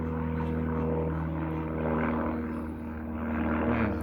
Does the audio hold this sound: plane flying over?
yes